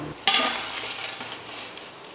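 Masala roasting in a pan for mutton kulambu opens with a sharp utensil clink, then settles into a close, dry sizzle with light stirring.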